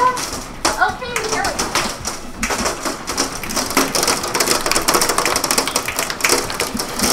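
Heavy hail pounding down during a sudden storm, a dense, loud, crackling patter that fills the whole clip while someone talks excitedly over it.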